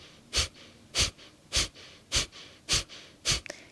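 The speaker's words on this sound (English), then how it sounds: "Then exhale, draw navel to spine, creating this pumping motion," Forceful nasal exhalations of yoga breath of fire (Kapalabhati pranayama), six sharp evenly spaced pumping puffs about half a second apart, close and clear with quiet pauses between.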